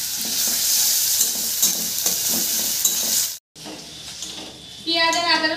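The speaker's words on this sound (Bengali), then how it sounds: "এবার মশলাটা আমি ভালো করে কষে নেব।" Spice paste of onion, garlic and ginger frying in hot oil, a steady loud sizzle with rhythmic stirring scrapes, a brief pause, then bubbling resumes near and close with a voice speaking over it.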